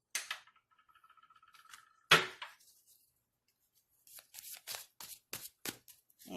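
A tarot deck is shuffled by hand in quiet: a quick riffle of card flicks, a sharp slap of the deck, a pause, then a run of distinct crisp card snaps and shuffles.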